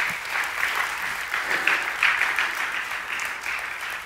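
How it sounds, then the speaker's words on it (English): A church congregation claps in a round of applause, a steady dense patter at moderate loudness that swells slightly mid-way and continues throughout without speech. "Could we give a great big round of applause for what Christ did for us?"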